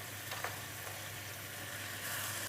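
Grated bottle gourd halwa roasts gently in ghee in a pan, a faint, steady sizzle with a couple of soft stirring scrapes early on, quiet and close with a low background hum.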